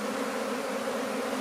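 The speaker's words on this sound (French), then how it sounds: "Elles commencent à rentrer et à appeler" A captured swarm of honey bees, a few thousand strong, hums loudly and continuously close by as it settles into a hive, a dense unbroken buzz with no voices.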